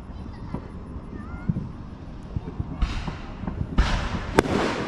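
Fireworks and firecrackers explode at a July 4 celebration, sharp pops and crackles, some distant and some close, with bursts of crackling near the end, under background voices and wind.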